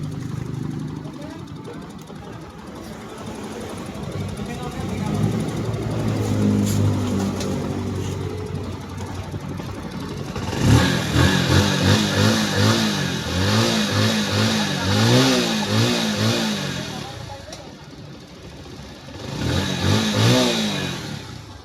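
Kawasaki NS125 FI motorcycle engine running and revving, first a low idle, then repeated rising and falling revs close by, with talk over parts of it.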